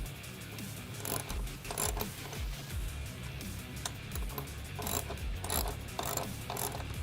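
Ratchet clicks from a 10mm socket wrench tightening the passenger-side top halo bolt on a Jeep Wrangler JK while fitting a Bestop Trektop Pro soft top, short bursts of clicking repeating close up with no talk.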